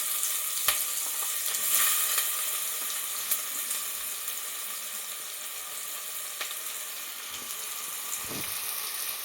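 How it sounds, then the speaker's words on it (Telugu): Sliced onions sizzle as they fry in hot oil inside a pressure cooker, a steady close crackling hiss with a few sharper pops and stirring knocks, no voices. "నూనె బాగా వేడైంది. ఇప్పుడు ఆనియన్స్ వేసుకుంటున్నాము."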